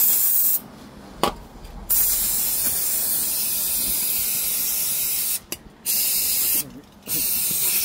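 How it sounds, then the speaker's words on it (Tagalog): Cleaner sprayed onto a Ford Ranger in several long hissing bursts with short pauses between them, close and loud, with a brief voice in one gap. "Spray natin."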